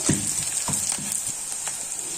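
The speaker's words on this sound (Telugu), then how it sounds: "ఇదిగోండి, ఆనియన్స్ వేసుకున్నాయి" Onions sizzle steadily in a pan in a home kitchen, with soft intermittent clicks from stirring over the close, continuous hiss.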